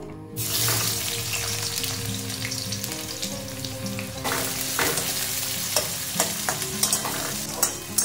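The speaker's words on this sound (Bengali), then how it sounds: "তেল দিয়ে দিলাম, রিফাইন তেল দিয়ে করবো।" Food sizzles steadily in hot refined cooking oil in a home kitchen, with occasional stirring clinks and scrapes rising over the continuous frying hiss.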